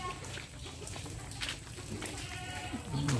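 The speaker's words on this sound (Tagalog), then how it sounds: "Ito yung mga alaga natin kambing." Goats on a farm bleat in short, wavering cries, the loudest one close at the end, amid rustling and background farm noise.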